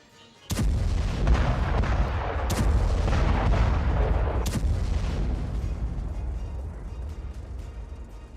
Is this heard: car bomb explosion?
yes